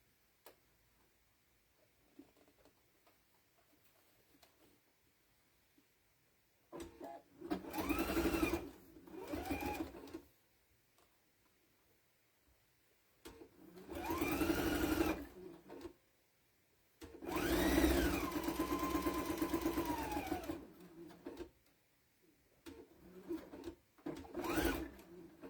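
A sewing machine stitches a flag potholder in three bursts of a few seconds each, with quiet pauses between them, and a few short stitching runs near the end. It sounds moderately close, and no one talks.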